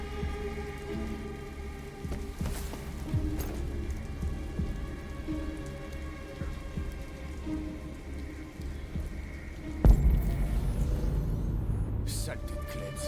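Steady rain pattering on surfaces in the Detroit video game, a dense, continuous hiss with a heavier burst of rain or a thunder rumble near the end.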